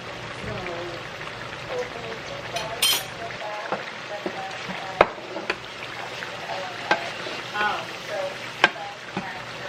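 Liver and callaloo, seasoned with powdered seasoning, all-purpose seasoning, black pepper and dry herbs, fry in a pan for a Jamaican breakfast, with a steady close sizzle broken by scattered clicks and scrapes as they are stirred, and brief voice sounds in between.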